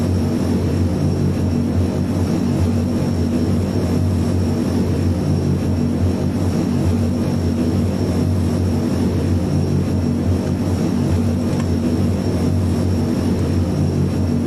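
RAF Airbus A400M turboprop engines in Microsoft Flight Simulator 2020, a loud, steady droning hum with a constant high whine, heard alone with no talk.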